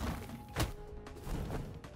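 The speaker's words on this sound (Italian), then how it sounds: "Ho tirato un cannone, un altro." Cannon shot fired in a Rayman video game, heard as a single loud thump near the middle over a busy, dense game soundscape, with further softer impacts afterward.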